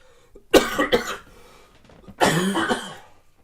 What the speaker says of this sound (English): Let's have a coughing fit.